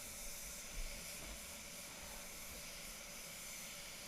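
A DeVilbiss GTI Pro HVLP spray gun lays a first basecoat on a silver metallic Toyota Corolla Ascent as a steady, even hiss that runs unbroken and close.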